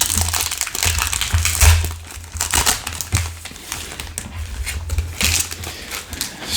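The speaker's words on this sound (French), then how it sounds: "Donc on va ouvrir le dernier paquet." A Digimon Card Battle BT15 booster pack is torn open and handled up close, loud crinkling and crunching foil wrapper noises running continuously with bursts of sharper crackles, no talking.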